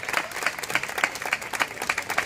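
Audience applause at an outdoor summer solstice festival at the Glorieta Juanita Reina in 2019, a steady, fairly close patter of many hands with slight rhythmic surges, and no voices on top.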